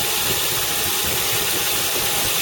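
Engine of a 2015 Ford Mustang running at a steady idle, a loud, close, continuous rumble with even vibration throughout and no voices.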